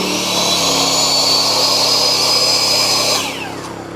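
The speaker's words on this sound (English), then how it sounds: "You can hear the RPMs kick up a little bit more." A portable gas generator with wheels and a telescoping handle, its engine running loud and steady under load with a high whine, after being switched off eco mode, then easing down slightly near the end.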